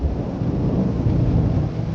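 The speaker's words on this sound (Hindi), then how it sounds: "हया, क्या तुम इस बारिश में पैदल आई हो?" A heavy thunderstorm with steady pouring rain and a low, continuous rumble of thunder, loud and enveloping throughout.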